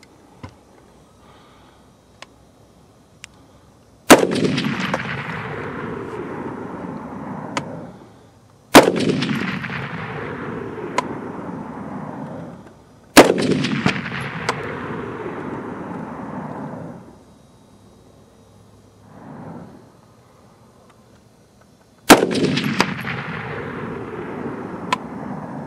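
Four loud, sharp shots from a Bushmaster ORC AR-10 .308 rifle, spaced several seconds apart, each followed by a long rolling echo outdoors. A fainter muffled thump sounds between the third and fourth shots.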